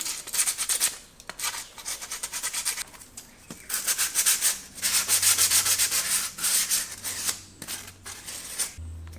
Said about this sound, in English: I'm just going to deburr this with some sandpaper. Take off some of the rough edges.